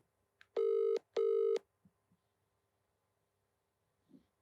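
Two long electronic telephone rings on an outgoing call, each ringing burst close and loud, separated by a short gap, then near silence with faint small clicks.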